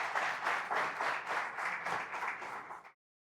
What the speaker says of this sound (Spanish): un aplauso fuerte para nuestro expositor